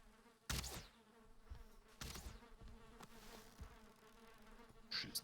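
Bees swarm and buzz around a bee nest in Valheim, a continuous droning hum broken by sharp impact hits and crackling bursts of game effects.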